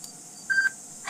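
A phone camera in the Indonesian horror game DreadOut gives a short electronic tone about half a second long, then a brief soft burst at the end, over a quiet background hum.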